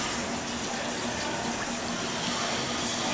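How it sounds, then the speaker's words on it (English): Cooking oil pours steadily into a cast iron skillet being seasoned, giving a continuous, even hiss of liquid close by with no talk. "Give it about a 1/16 to an 1/8 of an inch of oil on the bottom of the pan"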